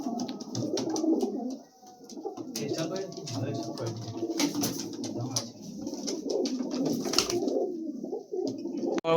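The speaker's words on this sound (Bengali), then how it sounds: "প্রচুর ছটপটে পায়রা আছে তো বন্ধুরা, এক জায়গায় দাঁড়াচ্ছে না" Restless pigeons in a pigeon loft coo almost without a break, close and fairly loud, with a layered, overlapping murmur and occasional sharper rustles.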